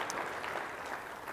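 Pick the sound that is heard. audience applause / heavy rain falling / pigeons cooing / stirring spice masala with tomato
audience applause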